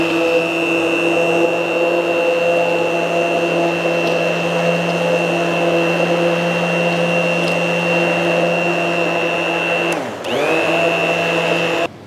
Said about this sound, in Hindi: और मशीन के साथ में एक ऐसा ग्राइंडर भी देगी कंपनी।